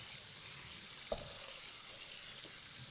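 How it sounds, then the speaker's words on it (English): Cold tap water runs steadily into a kitchen sink to rinse just-drained chow mein noodles, a constant close hiss with a few faint clinks. "I'm going to turn the cold water on a little bit just so it'll stop the cooking"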